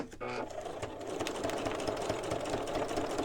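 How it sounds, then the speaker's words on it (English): A sewing machine stitches around transparent window film on a double-sided envelope, a steady fast mechanical whir and tapping running throughout, close and continuous, with a person talking over it. "Just going to sew around that window film, the transparency."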